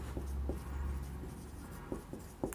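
Writing on a classroom board during a physics lesson on laws of motion: soft scratchy strokes in short bursts over a steady low hum, close and moderately loud, with no talking.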